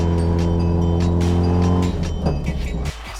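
A Nissan S13 drift car fitted with a Samsonas sequential gearbox runs loud and close, with a steady engine drone that drops in pitch and fades slightly toward the end.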